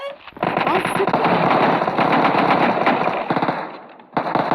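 Rapid gunfire in PUBG Mobile, a dense burst of automatic shots running almost continuously for several seconds, loud and close, then a short pause and another burst; speech is faintly mixed in.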